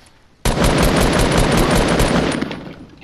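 Sustained automatic SCAR rifle fire in Fortnite, a loud, dense burst of rapid shots kicking in abruptly and rattling continuously for over two seconds with no talk.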